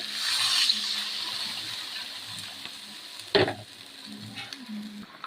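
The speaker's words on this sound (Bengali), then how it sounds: "একটু জল ঢেলে দেবো" Water is poured into a sizzling curry in a pan, starting as a quiet hiss, then a sharp splash and burst of bubbling partway through, followed by softer simmering crackle, close and fairly faint.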